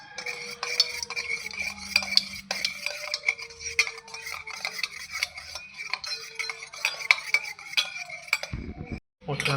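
Two eggs for a homemade cake are whisked in a bowl, with fast, regular clinking and scraping of a utensil against the bowl. It keeps a quick rhythm at close range and soft volume, then ends with a short thump.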